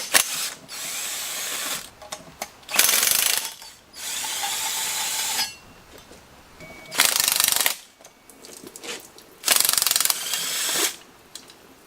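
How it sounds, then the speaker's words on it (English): Ratchet and power-tool work strips the accessory bracket and water pump off an LS/LT engine pulled from a truck, coming as several loud, rattling bursts of a few seconds each, separated by quieter gaps. "we're going to disassemble all of this, the whole thing, the bracket, the water pump"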